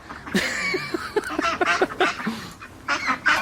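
A young duckling quacks repeatedly in short, close honking bursts, with brief pauses between calls.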